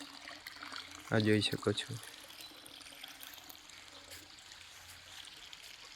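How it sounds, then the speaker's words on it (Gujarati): Hot spring water at a Maharashtra shrine spills out and runs into a pool, a faint, steady trickle and flow beneath a brief remark from a man. "ગરમ પાણી અહીંથી આમ નીકળીને પાણી જાય."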